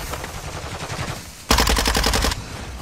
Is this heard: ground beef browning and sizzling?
no